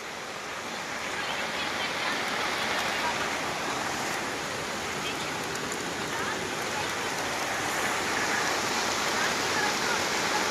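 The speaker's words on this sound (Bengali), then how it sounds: "বিশাল অবস্থা কেরালায়, এখন প্রচণ্ড পরিমাণে বৃষ্টি।" Heavy monsoon rain pours down in Kerala as a loud, dense, unbroken roar that holds steady from start to finish with no gaps.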